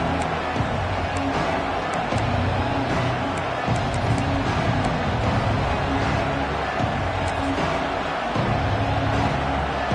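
A college football stadium crowd at an LSU versus ASU game roars steadily after a field goal, a dense, loud wash of cheering and noise filling the whole stretch without a break.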